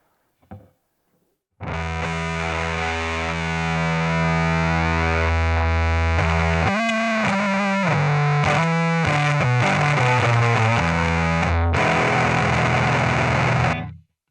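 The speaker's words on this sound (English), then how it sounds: "let's put a full fuzz on there" A heavily distorted electric guitar through a Boss ME-90 full fuzz effect rings out loud and sustained, with chord changes and bending notes, then cuts off abruptly.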